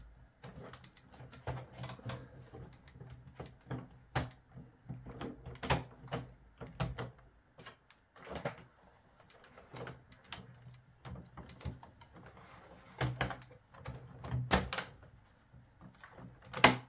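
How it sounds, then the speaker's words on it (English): The small plastic doors of a Republic Gunship dropship model are pushed shut by hand, giving a series of faint, scattered clicks and scrapes with quiet gaps between them and no talking. "let's close those doors again"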